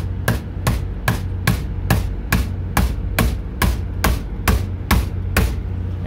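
A hammer strikes a metal glad hand coupling about fourteen times in a steady, even rhythm, each blow sharp and close with a brief ringing tail.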